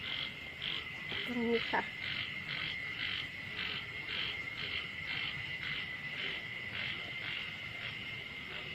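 Frogs croak steadily in a rhythmic, repeating chorus outdoors at night after rain, near a fish tank, with crickets faint beneath and a brief voice speaking over it early on.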